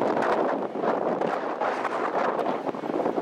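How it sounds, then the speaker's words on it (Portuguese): Strong wind blasts across the microphone outside Amsterdam's central railway station, a loud, continuous roaring rush with gusty swells and no voices. "E tá com o vento, tá muito forte."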